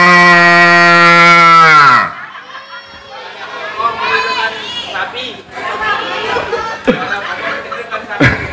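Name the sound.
voice imitating a cow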